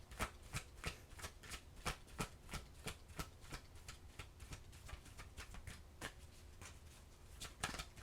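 Oracle cards being shuffled during a Virgo tarot reading, a steady run of crisp riffling snaps and soft papery slaps repeating for several seconds, close and fairly quiet with no talking.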